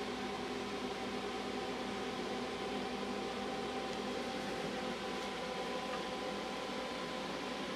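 Steady mechanical whir of a spinning magnet wheel motor with an overhead articulated stator, a constant faint hum and hiss with no talking.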